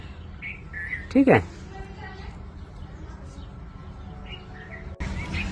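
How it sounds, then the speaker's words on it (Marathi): A bulbul gives a single loud, clear whistled call near the start, with faint bird chirps further off and a person speaking briefly. "आता आपल्याला सगळ्यात जास्त मोठ्या प्रमाणात पक्षी दिसतोय तो बुलबुल पक्षी।"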